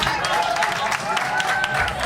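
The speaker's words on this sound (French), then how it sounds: "S'il vous plaît, applaudissez pour Mélissa." Wedding guests at a reception applaud in a continuous patter of clapping, mixed with crowd chatter and faint music.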